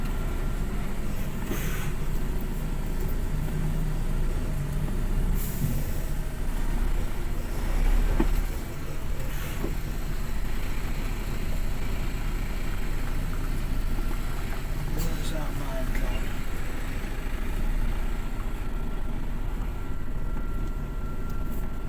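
An HGV class 1 lorry on the road, heard from inside the cab as a steady, loud engine and road rumble that holds throughout with no voices.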